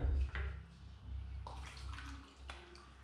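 Lukewarm water poured into a jar, a short bubbling splash with a low gurgle that trails off into faint trickling, heard close and alone with no voices.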